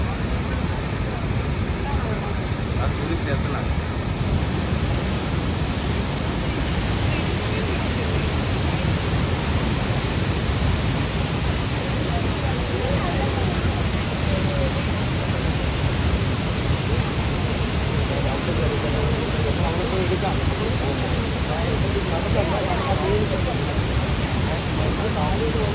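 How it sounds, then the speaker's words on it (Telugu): Athirapally waterfall in Kerala gives off a constant, loud, broadband rushing roar of falling water that fills the whole stretch without letup. "మీరు ఈ లోపు వాటర్ ఫాల్స్ చూడండి."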